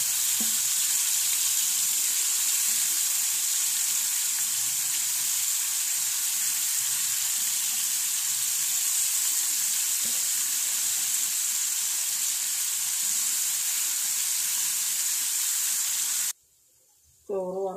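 Fish sizzles steadily in a hot frying pan on a home kitchen stove, a dense, even hiss that carries on for about sixteen seconds before cutting off abruptly.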